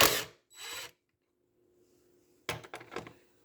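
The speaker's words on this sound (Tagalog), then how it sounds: "let's loose 10 millimeter nut" A socket wrench works a 10 mm nut while the air box is taken out of a Honda CR-V during transmission repair: two short ratcheting bursts, a quiet pause, then a quick cluster of clicking ratchet strokes, close and fairly faint.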